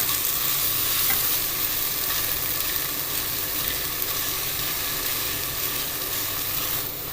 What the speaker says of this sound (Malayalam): ഇനി അതൊന്ന് ഉടച്ച് ചേർത്തിട്ട് ഇളക്കുക